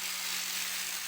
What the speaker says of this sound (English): I'm using the 80 grade for the first sanding process